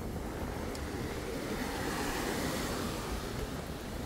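Ocean surf and wind at Mamucabinhas beach in Barreiros, Pernambuco, at high tide near rocks: a steady, fairly faint wash of broadband noise with no distinct breaking crashes and no voices.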